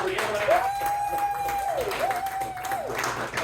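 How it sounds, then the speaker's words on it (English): Audience applause at an improv comedy show, steady clapping from a crowd throughout, with a sustained tone and some voices mixed in. "So give yourselves a round of applause."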